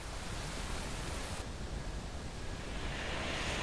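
A waterfall in Guyana roars through thick mist, a steady, dense wash of broadband noise with no breaks, loud and continuous throughout.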